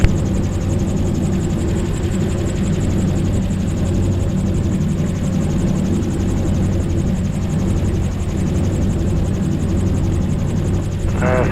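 A gyrocopter's engine drones loud and steady at close range, a constant buzzing roar that holds without pause throughout.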